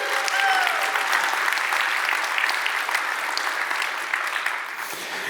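Conference keynote audience claps in a sustained, dense round of applause that holds steady and then tapers off slightly at the end.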